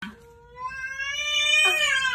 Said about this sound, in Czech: tohle je simulátor kočky